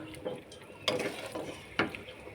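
Potatoes are stirred in a pan, a soft background sizzle broken by a couple of sharp scraping clinks of the utensil against the pan, close and moderately loud.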